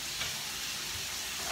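Epsom salt, one cup, poured into a filled bathtub of water, giving a steady soft hiss of granules hitting the surface that runs evenly throughout with no voices.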